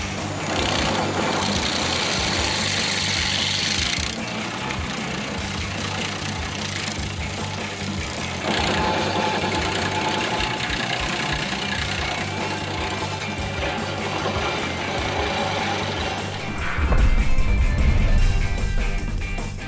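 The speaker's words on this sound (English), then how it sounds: "The new Bobcat tiller for the E35 mini excavator helps remove tree stumps exceptionally quickly." A Bobcat E35 mini excavator with a tiller attachment grinds out a tree stump, giving a continuous loud engine drone and harsh churning grind that swells heavier toward the end.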